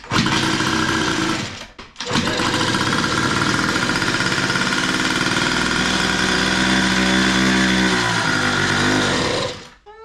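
A Yamaha Aerox scooter engine runs close up with a buzzy, rapid two-stroke idle, briefly dropping out near the start before catching again, then revving and settling before cutting off at the end.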